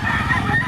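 A gamefowl rooster at a Filipino market gives a short, loud, honking call up close, brief and harsh, with market chatter around it.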